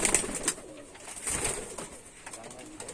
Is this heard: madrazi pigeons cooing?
yes